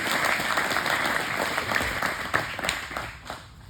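A gym crowd at a martial arts belt ceremony applauds those earning their first belt, with steady close clapping filling the room and a few sharper claps standing out.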